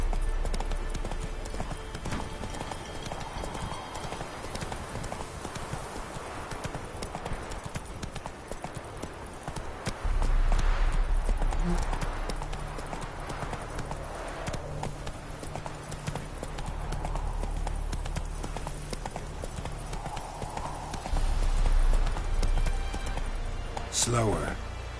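Roach, a horse in a video game, galloping, with a steady rapid clip-clop of hooves throughout, while people talk over it.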